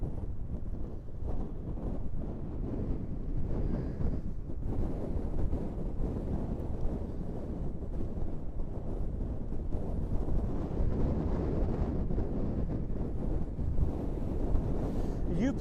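Extremely strong wind buffets a microphone on the Scottish coast near Gretna at the Scotland/England border, a loud continuous low roar with gusting rumble and no breaks throughout.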